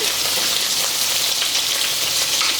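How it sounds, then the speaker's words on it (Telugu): Paneer shallow frying in hot ghee, a dense, steady sizzle with fine crackling that holds loud and close without pause. "ఇప్పుడు దీనిలోకి మనము పన్నీర్ ఒక 50 గ్రామ్స్ అండి, కొంచెం షాలో ఫ్రై చేసుకోవాలి"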